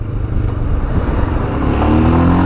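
A Royal Enfield Himalayan motorcycle pulls away, its engine note loud and close, with a low rumble that climbs in pitch as the bike accelerates.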